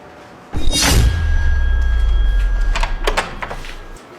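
A house door is opened for a visitor, a sudden thud and low rumbling slide followed by a few sharp knocks and clicks, close and fairly loud.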